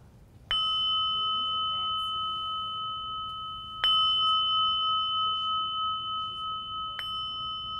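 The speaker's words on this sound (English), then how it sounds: "listen to the sound of the bell, specifically as it fades off into nothingness" A clear bell is struck three times, each ding ringing out brightly and slowly fading into a quiet background.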